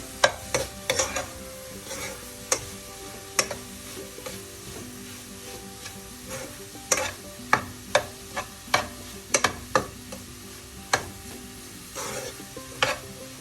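A spoon scrapes and taps through cauliflower stir fry in a pan, sharp irregular clinks over a soft sizzle, up close and without talk.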